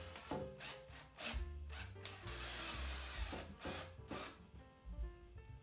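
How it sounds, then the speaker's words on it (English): A screw is driven in to fix a mounting bracket for a LEVOLOR Tatami bamboo shade, with a close, grinding power-driver whir and repeated scraping and rubbing pulses over several seconds. "Install the bracket using two provided screws."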